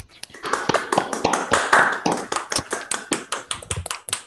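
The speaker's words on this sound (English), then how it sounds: "So you can unmute yourselves and clap for Peter and Quentin." Seminar attendees clapping over an online video call after a talk by two speakers, a scattered patter of several people's hands, uneven and overlapping, some claps sharp and close, continuing steadily without voices.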